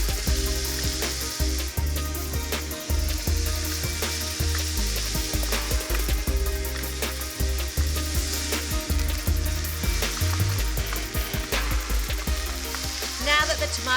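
Mince with onions and tomato paste sizzles steadily in a hot pan, a close, continuous fry broken by frequent scrapes and knocks of stirring.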